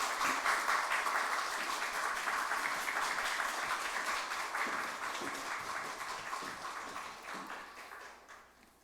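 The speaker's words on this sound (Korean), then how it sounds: "우리 큰 박수로, 나오실 때까지 박수로 환영하도록 하겠습니다." A church congregation at Onnuri Church claps to welcome the pastor forward at a Sunday service, a steady, moderately distant wash of many hands that holds for several seconds and then slowly fades.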